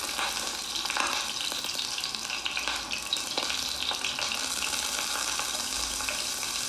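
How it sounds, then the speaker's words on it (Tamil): Bay leaves, cinnamon and garam masala fry in hot oil for a mutton tomato gravy, giving a dense steady crackle and sizzle with faint stirring clicks throughout and no talk. "இந்த கரம் மசாலாலாம் ஃப்ரையாக மாறிடுங்க."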